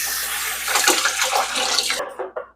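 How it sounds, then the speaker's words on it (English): A mug rinsed under a running kitchen tap, water splashing steadily for about two seconds before the flow cuts off, leaving a few brief drips and clinks. "And then I usually just rinse this off."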